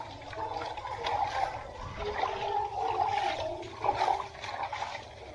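Water draining away in a home, a steady low trickling and gurgling flow that runs continuously and fairly faint, with no one speaking over it.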